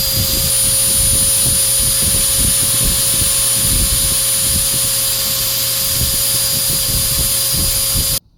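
Fogger machine running steadily, a loud continuous jet-like whoosh with a fixed whining tone and low rumbling pulses, sustained for several seconds before stopping abruptly.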